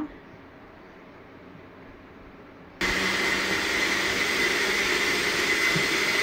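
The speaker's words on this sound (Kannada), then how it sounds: "ಇದು ಗ್ರೈಂಡ್ ಮಾಡ್ಕೊಬರೋಣ." A mixer grinder switches on abruptly and runs at full speed, grinding ingredients for a yogurt-based thambuli with a loud, steady, high-pitched whirring whine that continues without a break.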